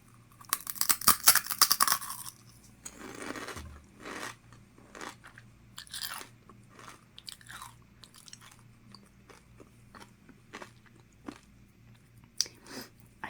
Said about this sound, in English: this one is so crunchy. Like, you guys heard that. It's like earth-shattering crunch.